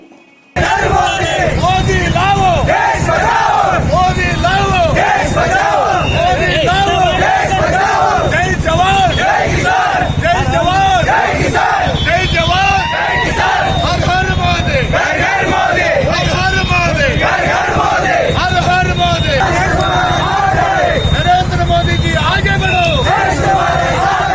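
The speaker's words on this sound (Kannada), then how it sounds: "ಶಾಸಕ ಎಸ್ ಪಾಟೀಲ್ ನಡಹಳ್ಳಿ ಅವರು ಮೋದಿ ಪರವಾಗಿ ಘೋಷಣೆಗಳನ್ನು ಕೂಗಿದರು" A crowd at a BJP motorbike rally in Muddebihal loudly chanting pro-Modi slogans led by MLA S. Patil Nadahalli, rhythmic massed shouting repeated continuously over engine and wind rumble.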